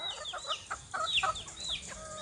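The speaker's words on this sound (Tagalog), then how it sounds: "Itong manok guys, hindi to sa akin." A chicken clucking nearby in a short series of quick, repeated clucks and squawks over quiet outdoor background.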